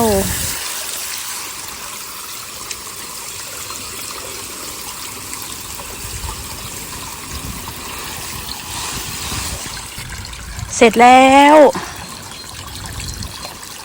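A small garden waterfall feature among the flowers keeps up a gentle, steady trickle of flowing water throughout, and a voice briefly speaks near the end.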